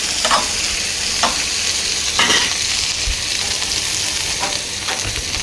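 Ivy gourd pieces fry in hot oil with a steady, bright sizzle throughout, and a spoon gives several separate scraping stirs at intervals across the pan.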